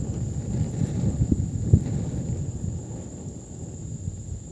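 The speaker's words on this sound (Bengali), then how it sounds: "দেখো অবস্থা দেখেছো, এই হলো বাতাস।" Strong wind blows at night in Bengaluru, buffeting the microphone as a steady low rumble with a few louder gusts, with no voices.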